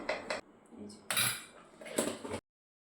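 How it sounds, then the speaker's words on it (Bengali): A small bowl of ghee set down on a steel pot lid while cooking biryani, giving a few close metallic clinks and scrapes in short bursts, then silence. "এই যে ঘিটা এর উপরে বসিয়ে দিলাম"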